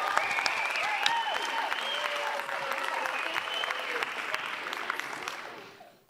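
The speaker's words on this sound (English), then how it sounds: "please give a big round of applause to our performers and our performance of The Jungle Book" An audience claps for performers of a school Jungle Book show, dense sustained applause that fades toward the end, with a voice or tones faintly audible underneath.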